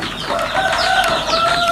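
Laying hens of the Larmot Blue breed cluck steadily at close range on a poultry farm, overlapping calls forming a busy, continuous chatter with no voices.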